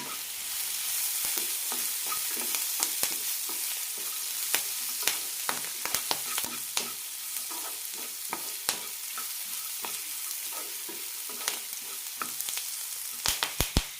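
Onions with turmeric powder sauté in a pan, a steady frying sizzle broken by frequent sharp clicks and scrapes of a spoon stirring, close and moderately loud with no talking.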